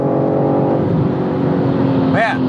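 A BMW M3 Touring with a potent engine accelerates hard, a loud, steady drone rising in pitch, with a brief sharper rev near the end and no voices.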